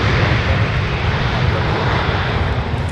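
An Air France airliner pushes back at Minneapolis–Saint Paul airport, its engines giving a steady, broad, distant roar with a low rumble underneath and no break across the moment.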